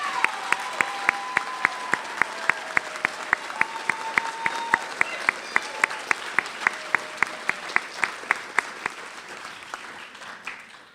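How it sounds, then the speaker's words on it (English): A graduating high school equivalency and adult high school class of 2015 receives steady applause from the ceremony crowd, with regular loud claps from one nearby pair of hands standing out above the sustained clapping throughout. "Let's give them a big round of applause"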